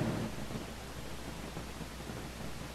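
Thunderstorm rumble with heavy rain, a dense, continuous roar of broadband noise heard alone at a steady loudness.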